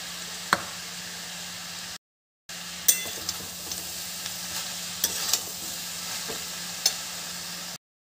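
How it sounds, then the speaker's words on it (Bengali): Potatoes and besan sizzle steadily in a pan for a Bengali thor besan recipe, with a spatula scraping and knocking against the metal at irregular intervals, close and fairly quiet, with one brief gap of silence. "একটু নেড়ে দেবো। এবার আলুগুলো দিয়ে দিই।"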